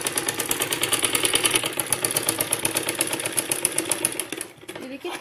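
A sewing machine stitches fabric for a blouse back design, a fast steady mechanical whirring rattle running close and continuous before slowing and stopping near the end.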